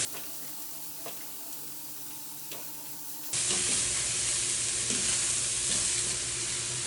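Cooked rice being stirred into sautéed vegetables in a pan for veg pulao: a quiet stretch, then a sudden loud, steady sizzle and scraping stir that carries on to the end.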